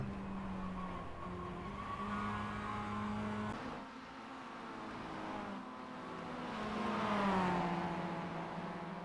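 A race car engine drones steadily in the iRacing sim, its harmonic pitch shifting with throttle, and swells near the end as tires squeal and the car slides loose cresting a hill, loud and continuous with no talk.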